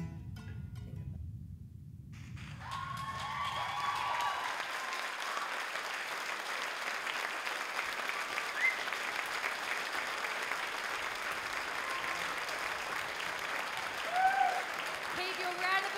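Audience applause at a Whangarei Girls High School Showquest 2019 performance: a low rumble opens, then broad sustained clapping from a large crowd fills the rest, steady and fairly loud with occasional cheers rising above it.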